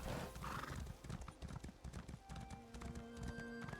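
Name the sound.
horse galloping in a video game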